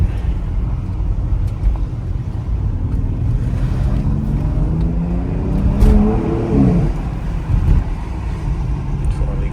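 A BMW X3M drives through traffic on rough roads, its engine a steady close rumble with rising and falling revs near the middle, heard from inside the car.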